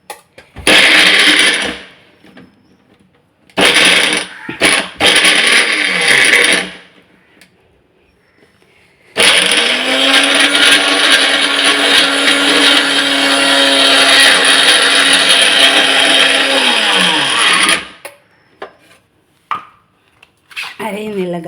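An electric mixer grinder grinding spice paste for fish fry runs in two short loud bursts, then a long steady whirring run of about eight seconds that winds down as it stops.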